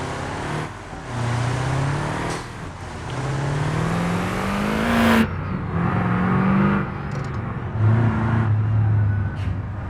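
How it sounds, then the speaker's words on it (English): Car engine in the BeamNG driving game, grinding and straining through gear changes with pitch climbing then dropping, a loud continuous drone with brief cuts between shifts. "Grinding up some gears apparently there."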